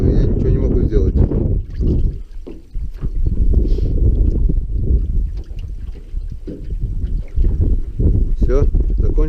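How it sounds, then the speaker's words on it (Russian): Strong gusts buffeting the camera microphone outdoors on a fishing trip during a storm, a loud continuous low rumble that swells and dips, with someone talking under it. "Блин, ветер, наверное, камеру будет задувать."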